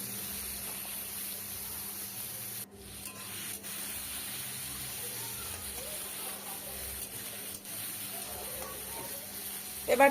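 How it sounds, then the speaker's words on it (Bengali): Shrimp rubbed with salt and turmeric frying in mustard oil in a wok gives off a soft, steady sizzle with a low hum behind it, quiet and continuous under a speaking voice. "এবার চিংড়িটা বেশ কড়া করে আমি এখানে ভেজে নেব।"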